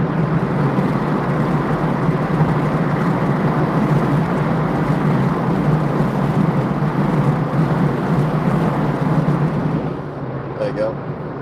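Loud wind roars through the open windows of a car driving home through Cheshire at rush hour, a steady dense rumble that drops slightly near the end.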